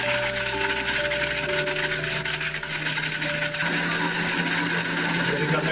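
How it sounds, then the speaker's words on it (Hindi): An electric kitchen grinder grinds homemade teeth-cleaning powder, giving a loud, steady, continuous mechanical whir with a gritty rasping texture that runs unbroken throughout, with no talking over it. "इसको ग्राइंड करना।"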